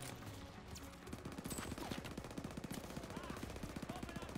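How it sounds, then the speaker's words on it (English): Rapid automatic gunfire in the World War II shooter game Call of Duty WW2, a dense, continuous burst of shots that grows louder after a brief lull and carries on steadily, with a voice talking over the game sound. "Everybody's getting shot before I can shoot at them."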